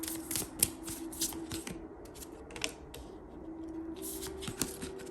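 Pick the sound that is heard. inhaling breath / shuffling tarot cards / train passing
shuffling tarot cards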